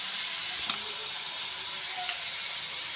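Diced potatoes frying in a pan for a vegetarian fig dish, giving a steady, close sizzling hiss throughout with a couple of faint clinks, and no talking.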